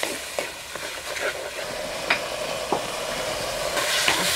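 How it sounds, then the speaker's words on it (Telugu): Soaked peas and green chillies fry in a pan for a tomato bath, giving a steady close sizzle broken by scattered scrapes and clicks of stirring, with no talk. "ఇది ఒక 2 నిమిషాలు వేగాక పచ్చిమిర్చి కూడా వేసుకొని బాగా వేయించుకోవాలి."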